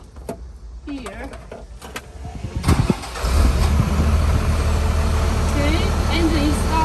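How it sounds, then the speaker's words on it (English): A car engine cranks with a whirring starter and catches around the middle, settling into a steady close idle, with a voice speaking briefly beforehand. "Now let's start the engine"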